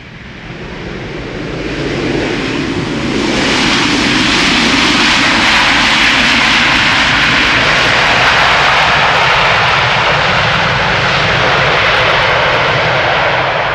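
An airliner inbound to Amsterdam Schiphol Airport after a flight from Minneapolis roars in on approach, its jet engine noise swelling from a distance into a loud, steady, broad rush that holds for several seconds.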